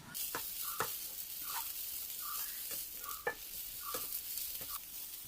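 Chopped onions sautéing with salt in a pan, a soft continuous sizzle broken by regular scraping stirs of a spoon, close but quiet, with no voices.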